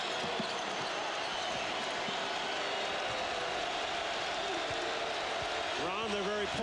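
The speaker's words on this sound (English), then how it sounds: "and here comes the crowd again" Crowd noise swells through a college basketball arena during an Iowa State at Kansas game, a dense, continuous roar of cheering with a broadcast commentator talking over it and a brief whistle-like tone near the end.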